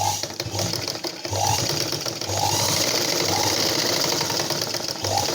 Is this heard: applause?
no